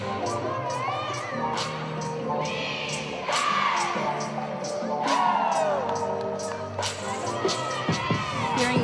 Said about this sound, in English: The Cardinals cheer on their teammate here on floor.